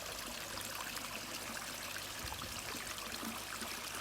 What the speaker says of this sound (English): Good water flow there and some really good water flow there.